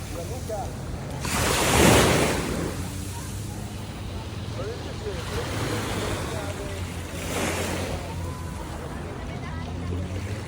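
Sea waves roll onto a public beach near Portofino, Italy, with two swelling surges of surf a few seconds apart over a steady wash of water and wind.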